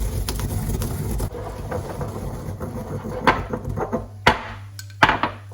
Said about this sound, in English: I'm going to put it in a pestle and mortar